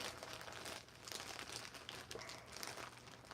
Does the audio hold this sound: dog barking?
no